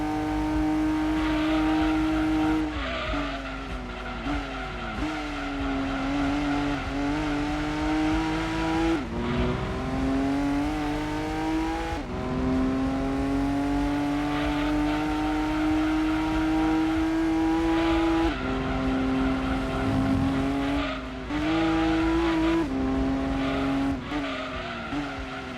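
A race car engine fitted with a muffler in Gran Turismo 2 drones loudly and continuously at Grand Valley Speedway, its pitch climbing through the gears and dropping at each shift, with no talking.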